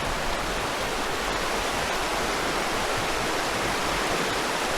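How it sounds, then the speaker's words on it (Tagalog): A river in the Magdalena area flows steadily and loudly nearby as a continuous broadband rush of water with no pauses and no voices. "Ayun pala guys, ang ilog."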